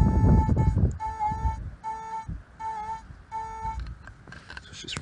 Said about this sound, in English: My next signal, literally a couple sweeps of the detector, is here.